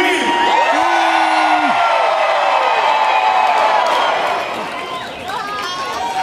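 A concert crowd at a live show in Nashville, Tennessee screams and cheers loudly, with whoops and shouts in a dense, sustained roar that eases slightly near the end.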